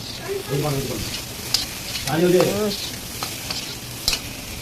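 Broccoli stirred in a frying pan, with chopped green chilies and coriander added, gives a steady sizzle and scraping under two brief tonal, voice-like hums.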